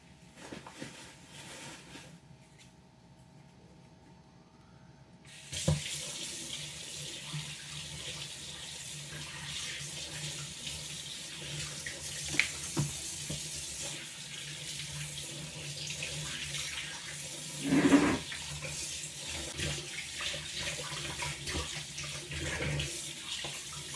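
A kitchen faucet runs steadily into a sink for washing, a continuous close hiss of flowing water that starts after a few quiet seconds, with occasional clinks and splashes.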